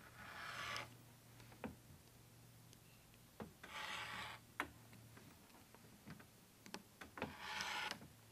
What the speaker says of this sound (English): the rotary cutter goes into that circular cutout area beyond the strip of fabric, making a nice neat cut